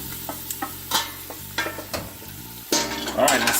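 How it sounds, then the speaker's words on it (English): Polish sausages and vegetables stirred in a pan over medium heat for gumbo: a steady sizzle beneath repeated close scraping strokes of the spoon, the frying growing louder and busier near the end. "I'm instantly gonna get in here, start stirring this up, right? And this is on medium heat"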